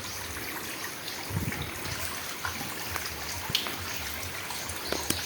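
Agbubulo River water flowing steadily in San Carlos City, Negros Occidental, a continuous close trickling and babbling with small splashes over a broadband rush, no voices.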